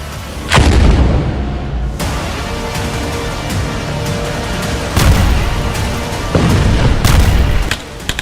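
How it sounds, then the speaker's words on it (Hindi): Heavy artillery and gunfire in Gaza during the Israel–Hamas war, loud deep booms arriving at uneven intervals with a sustained rumbling roar between blasts, close and forceful, no talking. "गाजा में हर घंटे हो रही ताबड़तोड़ फायरिंग ने हमास के लड़ाकों के होश उड़ा दिए हैं।"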